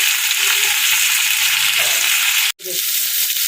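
Bitter gourd frying in an open pan, with a strong, continuous crackling sizzle and faint stirring underneath, broken by one brief near-silent gap before the sizzle resumes.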